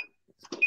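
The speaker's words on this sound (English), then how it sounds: "Now I'm programming the timer." A kitchen appliance timer gives a short beep while being programmed, followed by faint clicks and a second brief tone, all quiet and close.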